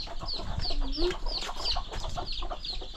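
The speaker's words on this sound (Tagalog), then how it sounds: "Ang dami sisiw oh" Chicks cheep in a busy, overlapping chorus of high, thin peeps, with clucking hens and farmyard fowl close by outdoors.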